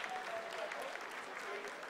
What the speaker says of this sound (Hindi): Lot of applause indicates that till now the performance has been nominal.